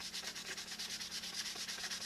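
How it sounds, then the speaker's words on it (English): Rhythmic scratching of sandpaper rubbed back and forth on wood by hand indoors, close up and steady, with no voices. "I hate sanding indoors."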